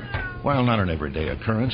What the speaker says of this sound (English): What you're hearing is a cat in a dryer.